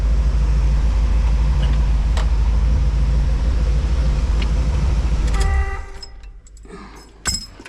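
A stock engine in a 1971 Corvette idles with a loud, steady low rumble that cuts off near the end, leaving quiet room sounds and a brief clunk.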